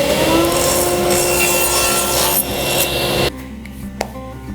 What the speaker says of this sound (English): so I'm just going to trim it up on the table saw.